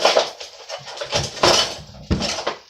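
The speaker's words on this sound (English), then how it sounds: "let's just go ahead and mix all these dry ingredients up real good here in the bowl" A wire whisk stirs dry pancake ingredients in a bowl, giving bursts of scraping and rapid clinking against the sides, loud and close, with no talking.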